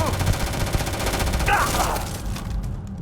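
Automatic weapon fire in the Starfield video game, a loud continuous rapid burst of shots that runs for about two seconds before trailing off.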